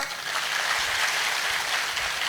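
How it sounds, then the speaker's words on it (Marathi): A crowd at a public speech keeps clapping, a steady, washy wall of applause at moderate loudness with no distinct individual claps and no voices. "एकदा टाळ्या तुमच्यासाठी हो द्या"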